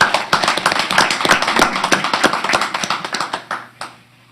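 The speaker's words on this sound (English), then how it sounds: "let's give them a round of applause" Applause for staff award recipients at a school board meeting, a small group clapping in sharp distinct claps at close range, loud at first and thinning out toward the end.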